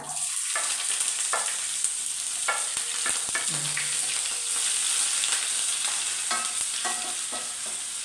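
Onion sizzles steadily in hot oil, with a spoon scraping and stirring the pan at intervals.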